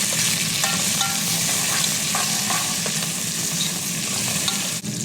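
Green chilies sizzle and crackle in hot oil in a pan, stirred now and then, a close, steady frying hiss with faint utensil taps, cooked for a ginger chicken dish.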